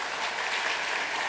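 A church congregation at a Sunday worship service breaks into dense, steady applause, many hands clapping together, loud and close throughout.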